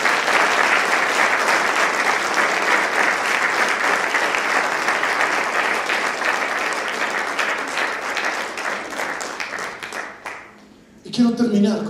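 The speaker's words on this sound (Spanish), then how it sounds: "Si le vas a aplaudir, yo quiero que le des un fuerte aplauso." Church congregation applauds loudly during a sermon, a dense, sustained wash of many hands clapping for about ten seconds that thins out near the end, followed by someone speaking.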